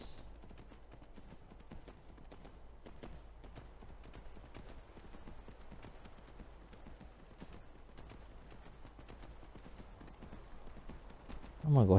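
Hooves of a robot horse clip-clop steadily in Skyrim, rhythmic even steps over a faint background that last throughout, with a louder burst at the very end.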